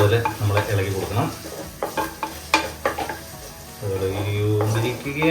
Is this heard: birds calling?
no